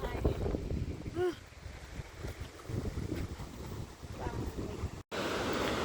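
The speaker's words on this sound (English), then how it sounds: "Seeing all these rapids for the last time, the ones that feed right into the lake" Rapids feeding into a lake in Grand Teton National Park rush in a continuous outdoor wash, blended with gusty wind buffeting the microphone and a brief sharp dropout near the end.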